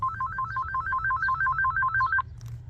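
Phone ringtone for a spam call, a rapid two-tone electronic warble repeating steadily for about two seconds before cutting off, clear and close over a low background hum.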